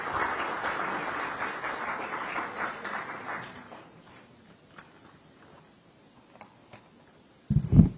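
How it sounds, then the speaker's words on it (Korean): Audience applause at a political talk concert held by a provincial party branch. A dense clapping patter rises for about three seconds, then fades into quiet room sound, and a brief thump follows at the end. "큰 박수 부탁드립니다."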